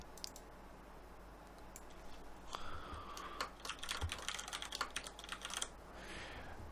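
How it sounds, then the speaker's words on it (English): Keys clatter on a computer keyboard in a quick flurry of clicks over a faint background hiss, close but fairly soft, preceded by a few scattered keystrokes. "and I just type that out."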